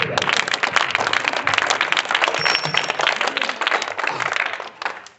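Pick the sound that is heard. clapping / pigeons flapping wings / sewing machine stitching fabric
clapping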